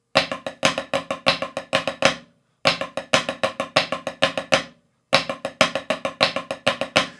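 Crisp snare drum rudiments with a flam triplet in quick clustered patterns, repeated three times with short silent gaps between phrases, close and dry.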